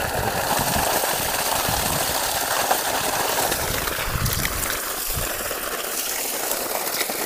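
A 3 HP solar-powered water pump runs steadily on a farm, giving a continuous, fairly loud mechanical hum and broadband rushing noise, with the flow of pumped water mixed in and no voices.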